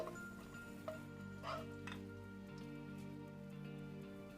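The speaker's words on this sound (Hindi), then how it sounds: "लहसुन को पका लेंगे कुछ सेकंड" Finely chopped garlic, three cloves, fries briefly in a pan for Maggi masala noodles, giving a soft, steady sizzle with a few brief crackles beneath a sustained musical bed.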